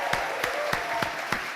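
Audience applause for an astronaut panel on living and working in space, a steady dense clapping wash with a few louder individual claps standing out at regular intervals, moderately loud and continuous with no talking.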